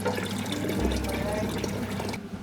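A full jug of water is poured into a cooking pot in one steady, continuous splashing stream, fairly loud and close, cutting off near the end.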